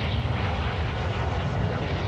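A propeller airplane in Warzone 2 drones loudly and steadily, a dense broadband engine roar that holds constant throughout with no pauses.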